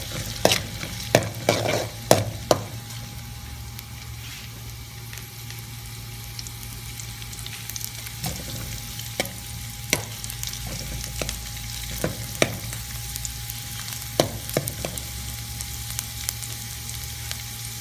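Onions fry in oil in a pan as a steady sizzle that runs throughout, broken by repeated clacks and scrapes of a utensil stirring.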